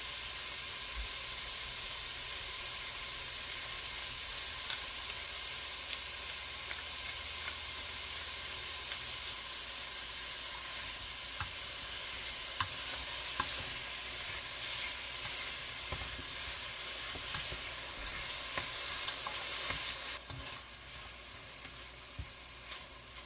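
Pieces of lamb sizzle and fry steadily while browning in a pot for a Japanese lamb curry, with a continuous close hiss and occasional crackles and stirring scrapes, no talking.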